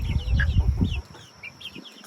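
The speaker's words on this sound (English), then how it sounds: "Just running around acting like normal chickens." Homestead chickens clucking close by, several overlapping short clucks and chirpy calls over a busy low rustling that drops away halfway, leaving a few scattered clucks.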